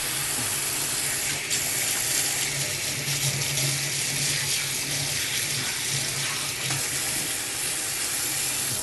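Kitchen tap running steadily at a sink while hands are rinsed, a constant close hiss of water with faint sizzling of browning food behind it and no talk.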